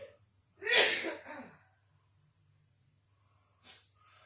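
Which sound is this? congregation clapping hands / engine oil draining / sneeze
sneeze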